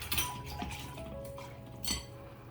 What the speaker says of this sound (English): I'm going to give that a little whisk